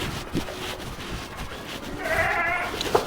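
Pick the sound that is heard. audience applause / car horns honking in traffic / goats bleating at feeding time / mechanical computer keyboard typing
goats bleating at feeding time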